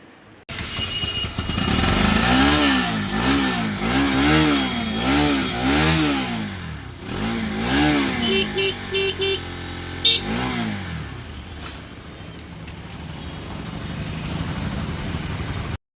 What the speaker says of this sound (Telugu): బండి అయితే స్టార్ట్ అయిపోయింది CDI మార్చగానే